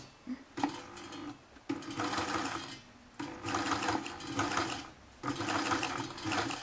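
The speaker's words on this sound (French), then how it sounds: "On va faire une petite sous-piqûre là, où on a fait la couture." A sewing machine runs an understitch along a seam of a soft neck-warmer kit project, whirring in three steady, close bursts separated by brief pauses.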